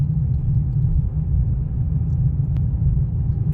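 A car in third gear driving slowly along a highway edge with a beginner at the wheel, giving a steady low engine and road rumble from inside the cabin, continuous and even throughout with no talk.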